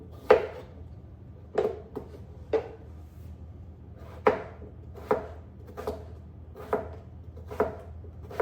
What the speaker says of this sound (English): Let's slice up a cucumber.